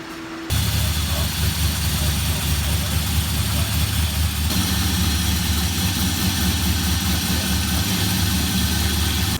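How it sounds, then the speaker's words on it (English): A small-block Chevy V8 in a Chevrolet Nova idles steadily up close, a continuous low rumble that holds even for several seconds after starting abruptly. "It's idling, it's working"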